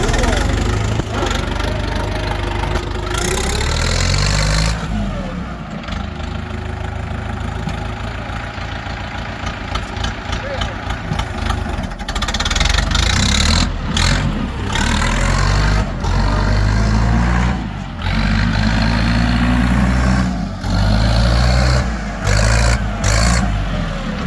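A Kentavr X404 tractor engine, key-started, runs close and loud with a steady mid-pitched diesel chug that rises and dips in revs, while someone talks over it.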